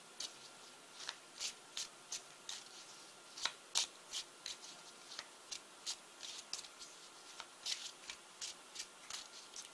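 Tarot cards are shuffled by hand in a steady run of soft, close riffling bursts, each a quick papery flutter repeating about every half second with no voices.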